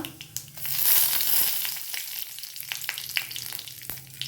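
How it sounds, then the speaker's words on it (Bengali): Cumin seeds, bay leaf and dried chilli crackle and sizzle as they hit hot oil in a kadai for a tempering, a brief loud hiss that settles into a lighter ongoing sputter with small pops. "আরেকটু তেল দেব ফোড়নে জিরে তেজপাতা শুকনো লঙ্কা"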